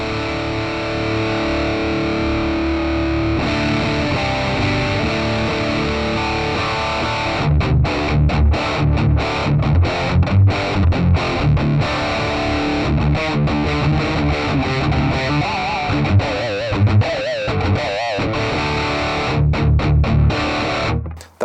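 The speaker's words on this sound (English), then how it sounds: "let's move over to the overdrive side of things and give these a bit of a wiggle so that they're not where they are, and go for some Marshally style tones" Electric guitar through a Joyo preamp pedal set to Marshall-style overdrive at half gain, a sustained distorted chord ringing loud and alone, then choppy palm-muted riffing with rhythmic stops and bursts through the second half.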